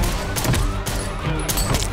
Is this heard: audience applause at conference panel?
no